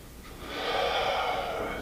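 A long, audible inhale through the nose during an exercise routine, a close breathy rush of air that swells and holds for over a second.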